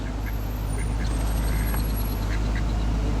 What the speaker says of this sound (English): Ducks in front of us, I really want to run over.